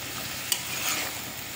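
Raw peas for ghugni are stirred in a pan as they fry, with a close, steady sizzle and a soft scrape of the spoon over about a second and a half, and no talking.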